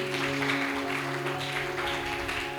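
A church congregation claps loudly in praise during a Spanish-language sermon. The applause is a continuous, dense wash over a sustained musical drone.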